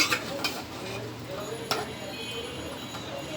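Curry being stirred in a frying pan with a spatula, scraping and light sizzling in a close, steady wash, with a few sharper scrapes standing out.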